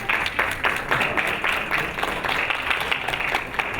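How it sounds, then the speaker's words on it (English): Caregiver symposium audience gives a warm round of applause for Debbie, many hands clapping in a dense, rhythmic patter that stays steady and fairly loud throughout, with faint voices beneath. "I think you should all give her a round of applause for putting this day together."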